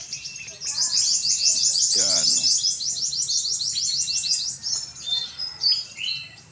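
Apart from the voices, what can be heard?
birds chirping and singing in a rural Philippine area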